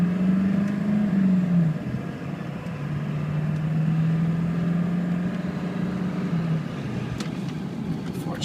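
A 1997 Ford F350 diesel 4x4 pulls away from a dead stop, its engine droning loud and close as the pitch rises and then settles over several seconds.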